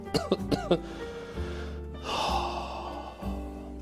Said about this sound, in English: it's really annoying to hear me cough constantly